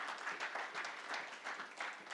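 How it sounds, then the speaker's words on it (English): Audience applause at a real estate conclave, a steady wash of many hands clapping that swells and dips slightly in waves, moderately loud and continuous throughout with no talk over it. "Let's have a grand applause for all of them,"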